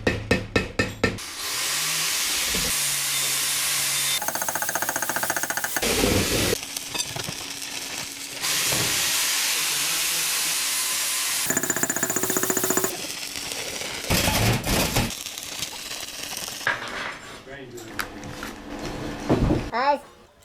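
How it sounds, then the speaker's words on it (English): Welding around a metal square during a beginner welding session in the west of Ireland: long steady crackling, sizzling bursts separated by short pauses, with clanks and handling noises between them. "You should be able to weld that whole square there without moving anything."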